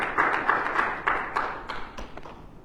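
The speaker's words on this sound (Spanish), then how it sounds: "¿Cuántos dan un aplauso fuerte?" A church congregation clapping during a Sunday service, a rhythmic series of fairly close, sharp claps at a steady beat that loosens and fades toward the end.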